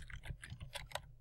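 Someone types data into an online form on a computer keyboard, giving a quick, close, steady run of soft key clicks with no voices.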